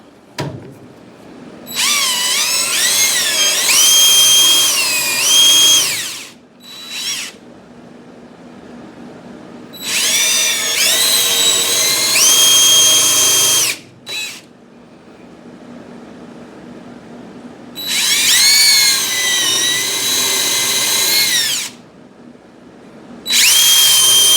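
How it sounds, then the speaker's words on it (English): A power drill bores holes in wood for a DIY axe storage rack, running in three long whining bursts separated by short blips and pauses. The drill is loud and close, with no voices. "when I'm drilling the holes for the other ones, barely countersink them"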